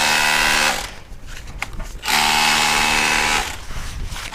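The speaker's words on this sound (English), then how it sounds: "Oh, I've got that rotary hammer. It's a bit noisy" A rotary hammer runs at an outdoor dinosaur dig, loud and close with dense buzzing hammering in two long bursts separated by a short quieter pause.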